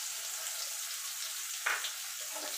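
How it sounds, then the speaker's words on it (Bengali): Chopped onion fries in oil tempered with black cumin seeds, a soft, even sizzle close by with one brief clink partway through and no voices. "এবার পেঁয়াজটাকে একটু লাল লাল করে ভেজে নেব।"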